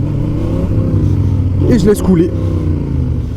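Trial motorcycle engine in first gear with quick throttle blips, a close, loud, rough engine note rising briefly in the middle while someone talks over it.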